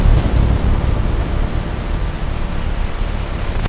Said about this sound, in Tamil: அந்த இரவு பெரிய புயல் வந்தது. காற்றும் மழையும் கடுமையாக அடித்தது.